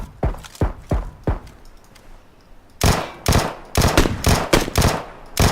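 Shoulder-fired rifle gunfire in the PUBG battle royale game on the Erangel map: a few spaced shots, a pause, then a rapid burst of loud sharp cracks with light thuds between.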